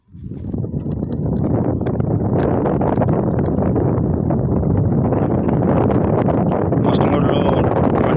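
An AJK electric scooter in white, ridden in its first riding mode, with steady loud wind buffeting the microphone for the whole run and a low rumble beneath it. No talking is heard.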